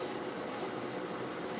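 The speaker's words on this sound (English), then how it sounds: "So I'm just putting a workable fixative." Workable fixative sprayed from an aerosol can onto a painting in a ventilated studio, a soft continuous hiss with faint pulsing bursts, quiet and close.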